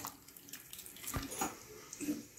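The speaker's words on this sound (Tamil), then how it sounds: "புளியை வந்து இப்படி தண்ணி ஊற்றி ஊற வச்சுட்டு இப்படி" Water splashes and trickles briefly into a bowl of tamarind set to soak, a close, soft pour with a few small drips in a home kitchen.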